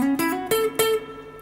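Guitar riff from a song, played with hammer-ons: a handful of notes, some picked and some sounded by hammering onto the fretboard, close and clean.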